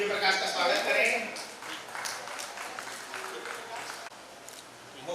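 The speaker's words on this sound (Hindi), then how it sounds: "जोरदार तालियों से दिव्य प्रकाश का स्वागत करें" Scattered applause from a seated audience at a Balram Jayanti honours ceremony, strongest at first and thinning out, while someone speaks over the clapping.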